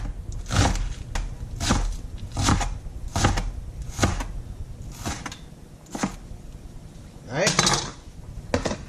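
Green onions sliced with a knife on a cutting board: a steady run of crisp, evenly spaced chops, close and clear, ending in a quicker double cut with no voices.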